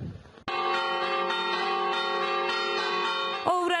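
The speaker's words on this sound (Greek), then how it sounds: "οι καμπάνες ηχούν" Church bells ring out loud and sustained as a wildfire approaches, a dense wash of overlapping peals that begins abruptly after a short quiet lead-in and keeps going to the end.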